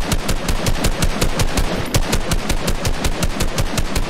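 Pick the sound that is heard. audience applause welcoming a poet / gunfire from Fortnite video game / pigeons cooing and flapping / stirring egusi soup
gunfire from Fortnite video game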